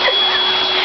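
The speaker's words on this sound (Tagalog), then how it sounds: "Ay, that's the vacuum cleaner." A household vacuum cleaner runs steadily and close by, a broad continuous whine and rush with a faint high tone, and no talk over it.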